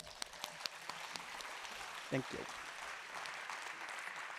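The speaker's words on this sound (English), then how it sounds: "let's receive her with a big applause" Audience applause for a speaker at a debate on AI versus humans, a steady patter of many hands kept moderately in the background, with a brief spoken thanks in the middle.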